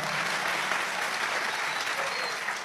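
Audience applause at an Islamic gathering in Blitar, a steady dense wash of clapping filling the whole moment, loud and continuous with no voices on top.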